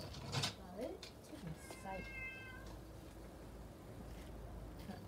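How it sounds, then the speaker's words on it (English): Cats yowl and meow in short, harsh bursts, with a high screech early on, over a busy background and some nearby voices. "That is the cats fighting again."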